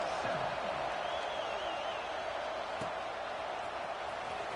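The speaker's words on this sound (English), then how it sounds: "this crowd is buzzing after that last score" Football stadium crowd after a touchdown, a steady distant roar and murmur running throughout with faint scattered shouts and a brief thump.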